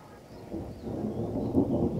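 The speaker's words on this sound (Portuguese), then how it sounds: "chuva, delícia." Thunder rumbles low and heavy through steady rain, a rolling roar that swells after the first half second and holds loud to the end, with no voices present.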